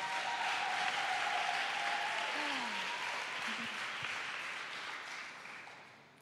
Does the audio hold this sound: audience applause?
yes